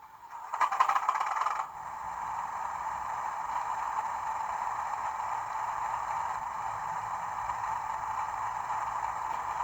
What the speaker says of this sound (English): So let's see if we can get the loco fired up.